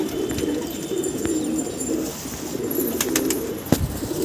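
Pigeon cooing on a rooftop, a soft low repeated coo in a steady rhythm, fairly close, with faint chirps and a sharp click near the end.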